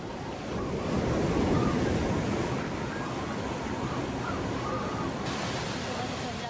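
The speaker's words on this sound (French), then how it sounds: "Les vagues déchaînées sont arrivées jusqu'au village." Storm waves from Cyclone Percy crash on Tokelau in a loud, continuous roar of surf and wind noise, with faint bird calls above it.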